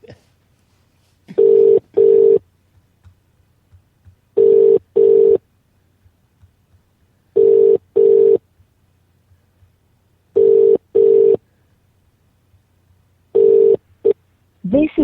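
Telephone ringing tone: a loud, close double-burst ring repeats about every three seconds at a steady rhythm, with near silence between rings and a brief hint of a voice at the very end.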